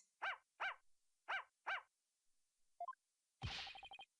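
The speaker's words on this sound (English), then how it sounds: "Can't you quiet that yappy mutt down?" Small dog in the game Ace Attorney Spirit of Justice barking four times in a quick, evenly spaced series, followed by a few short rising squeaks and a burst of game sound effects.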